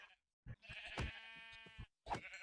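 A Minecraft sheep bleats in short, close wavering calls, two or three in quick succession, with brief silences between them.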